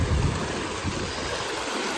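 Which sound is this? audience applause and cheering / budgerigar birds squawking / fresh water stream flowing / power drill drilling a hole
fresh water stream flowing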